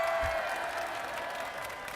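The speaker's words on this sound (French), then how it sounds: "on les applaudit." A crowd applauds at the Game One stand at Paris Games Week 2016. The clapping is a soft, distant wash held at a steady level against the hall's ambient noise.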